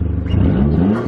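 A PT Cruiser GT's engine revs and accelerates during a drive, a steady close mid-pitched rising drone filling the whole short stretch.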